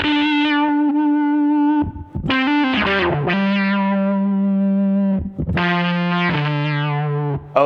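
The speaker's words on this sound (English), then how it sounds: "you hear the distortion being filtered as well" Distorted electric guitar notes through a Source Audio Artifakt Lo-Fi Elements effects pedal, buzzy and filtered, with sustained tones broken by a few quick strummed bursts.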